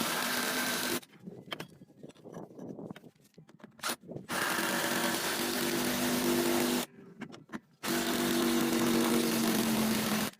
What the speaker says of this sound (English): you can also hear the impact change its tone as well